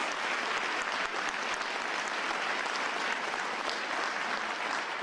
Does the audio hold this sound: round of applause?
yes